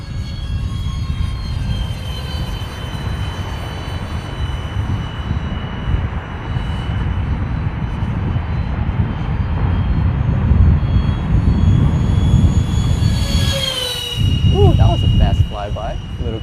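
An Art-Tech F-14 R/C model airplane passes close by, its whine building steadily then sweeping past with a quick pitch drop, under wind noise and some outdoor talk.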